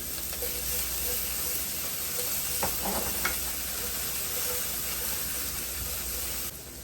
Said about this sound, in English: We're gonna cook our garlic until it becomes fragrant.